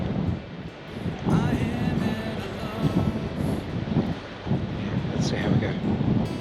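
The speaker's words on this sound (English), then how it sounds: "It's still windy" Wind blows on a pier on the Mornington Peninsula near Melbourne, a low rumbling gusty buffeting against the mic that swells and eases, with a voice talking faintly in the background.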